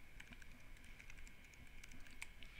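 Quiet, rapid clicking of keys on a Mac computer keyboard, a run of light taps close by with no voices.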